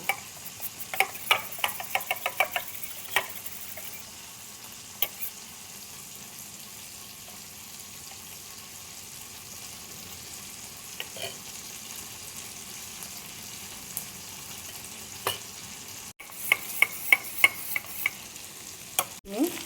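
A spoon stirs cornflour into water, producing quick bursts of rapid clinking against a bowl at the start and end, over a faint steady sizzle of cooking in the background.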